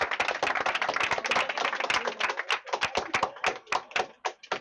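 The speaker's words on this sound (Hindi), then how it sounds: "चलिए ताली मारते रहिए।" An audience applauds for a Bihar board 10th-grade topper, a dense burst of clapping that thins into scattered individual claps and fades out near the end.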